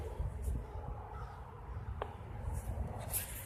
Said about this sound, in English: There's some crows, Murder Inc.